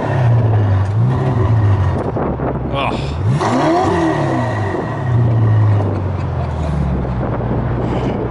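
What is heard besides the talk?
car engine revving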